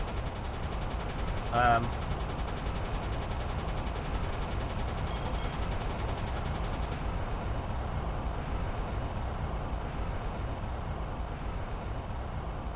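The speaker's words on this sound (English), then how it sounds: "Okay, her front guns are going." A ship's front guns firing in the Uboat submarine video game, heard as distant gunfire over a constant roar of engine and sea noise, with one sharper burst early on.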